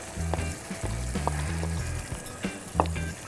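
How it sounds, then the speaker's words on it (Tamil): Ground coriander, fenugreek and dried chili powder stirred into hot oil for tamarind rice, a steady sizzle with a low humming undertone and sharp spatula clinks scattered throughout. "கொட்டி அப்படியே நல்லா கிண்டிக்கிட்டே இருக்கணும்"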